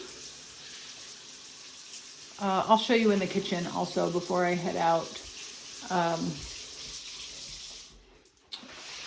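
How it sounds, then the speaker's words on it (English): Tap water runs steadily into a kitchen sink with good pressure, a continuous hiss under a person talking nearby before it cuts off near the end. "The water pressure is good."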